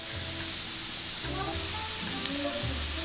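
Onions and carrots fry in a pan for a light dinner, a steady broadband sizzle with occasional soft stirring scrapes, close and continuous with no talk.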